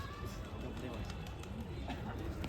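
Pigeons coo softly in the background beneath people talking and general chatter at a pigeon-flying competition in Nashik.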